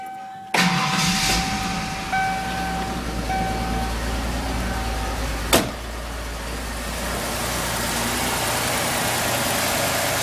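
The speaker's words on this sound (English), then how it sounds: "I'll start it up real quick for everyone" A 1994 Mercury Topaz GS V6 cranks briefly and catches, then settles into a steady, even idle nearby, with a few electronic chime tones early on and a sharp click midway.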